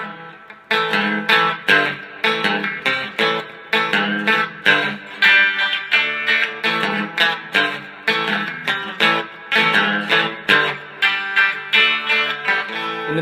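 Distorted electric guitar plays a riff, loud rhythmic chords and repeated phrased strums with no voice over them.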